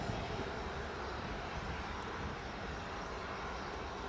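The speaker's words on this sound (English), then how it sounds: "Just got the Emirates 777 departing mate" An Emirates Boeing 777 departs at Newcastle airport, a faint, distant, even rush of jet engine noise that holds steady throughout with no voices.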